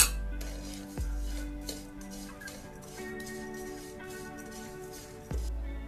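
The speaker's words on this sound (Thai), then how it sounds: "เอากระเทียมเจียวลงไปคั่วอีกทีนึงค่ะ" Fried garlic is stir-fried in a pan on low heat for a Thai tofu and egg dish, with a metal spatula scraping and clinking against the pan in an irregular rhythm.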